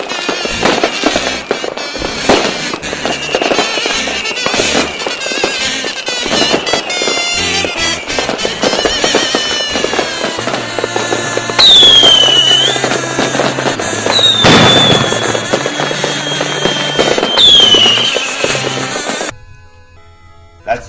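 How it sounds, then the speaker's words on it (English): Fireworks sound effect: a long, loud run of crackling bursts and booms with whistling rockets rising through it, filling nearly twenty seconds before cutting off to near silence. "This is where you insert the kazoos and fireworks"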